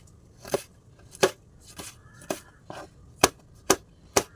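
Knife chopping an onion finely on a board, with seven sharp, separate chops spaced about half a second apart and fairly close to the listener, with no talk.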